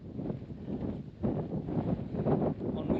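Steady gusty wind buffets the microphone along a coastal footpath near derelict old buildings on the Fisherman's Trail between Vila do Bispo and Salema, a continuous low rushing roar that rises and falls without let-up.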